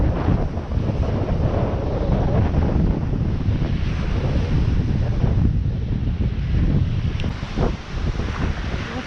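Strong wind buffeting the microphone on a shore along the Gulf of Finland near Tarkhovka and Razliv, with steady surf washing in beneath a loud continuous roar.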